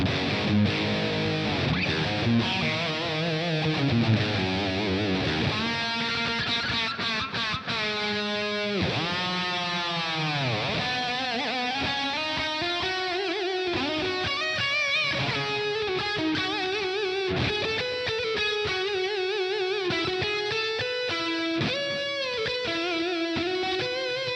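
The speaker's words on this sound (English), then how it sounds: "Some delayed reverb on there." Electric guitar played through an amp with delay and reverb, sustained notes and bends smearing into echoing tails, steady and fairly loud with no talking.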